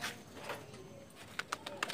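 A young racing pigeon enters the loft during club training, with soft cooing and a few sharp taps and flutters near the end, no speech.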